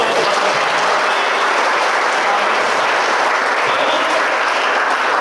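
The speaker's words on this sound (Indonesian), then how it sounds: "kasih tepuk tangan dulu" An audience at a regional talk show claps together, a loud, dense, continuous wash of applause that holds steady throughout with no voices on top.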